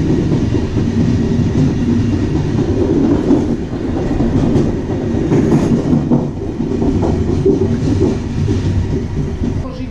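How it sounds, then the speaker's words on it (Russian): A small one-car train rumbles at a station in Vigo, with a loud, steady low roar of the engine and wheels filling the space, close and continuous. "Вот он уже стоит, мой поезд, такой совсем каракюсенький, видите?"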